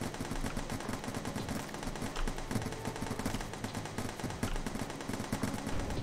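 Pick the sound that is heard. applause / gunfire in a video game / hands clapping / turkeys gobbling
gunfire in a video game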